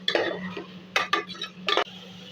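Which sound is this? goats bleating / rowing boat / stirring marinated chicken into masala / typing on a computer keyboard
stirring marinated chicken into masala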